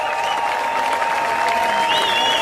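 Concert crowd applauds loudly and steadily after a mambo performance, the clapping blended with a held musical tone throughout.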